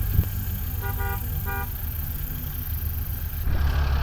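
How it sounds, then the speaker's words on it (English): A car horn sounds in the distance in the woods at a camping spot, two quick short toots and then a third, faint against a steady outdoor rumble. "Can you honk your horn?"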